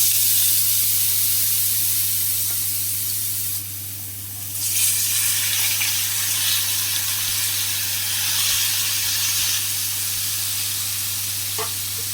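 Chopped ridge gourd fries in a pan with oil and asafoetida, giving a continuous close sizzle and hiss that swells briefly after a few seconds, over a low steady hum.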